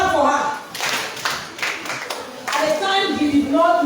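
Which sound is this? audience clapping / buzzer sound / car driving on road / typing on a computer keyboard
audience clapping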